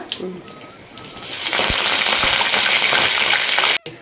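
Dals, dried red chillies and curry leaves sizzle in hot oil for a tempering, the frying hiss swelling loud and steady after a quieter start, with faint stirring clinks before cutting off abruptly near the end.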